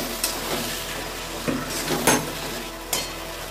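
Spice paste being sautéed and stirred in a pan for a jackfruit chicken curry, with a steady close sizzle broken by several scraping stirs of a spoon against the pan.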